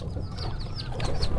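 A turkey in a pet shelter gives repeated warbling, clucking calls over a constant low background rumble, with no voices.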